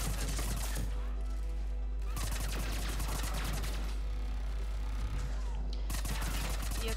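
Turret gunfire in Mass Effect 3, loud and sustained rapid bursts with crashing impacts filling the whole stretch, briefly easing between volleys before resuming.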